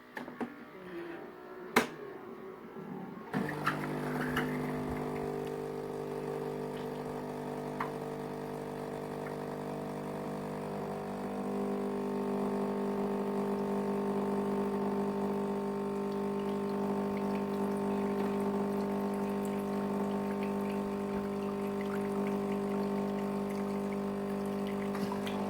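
A Philips Saeco coffee machine brews a coffee after descaling: a sharp click, then a steady pumping hum with water flowing continuously for the rest of the stretch, close and fairly loud, with no talking.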